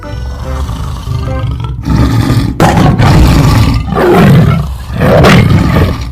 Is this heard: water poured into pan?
no